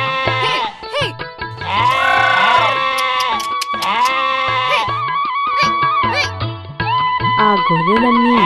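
A flock of sheep bleats loudly and repeatedly in an overlapping chorus of wavering calls, some near and some farther off, with no pause between them.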